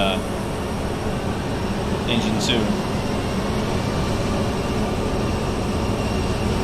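An Airbus A320's number 2 engine starts up in a flight simulator, heard as a loud, steady low roar and whine that holds constant throughout, with a brief higher tone near the start.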